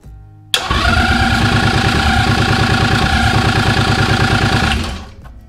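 A vintage race motorcycle's engine, run without choke, cranks with a sudden jolt and then churns in a loud, rapid, steady pulsing rhythm for several seconds before cutting out and fading away.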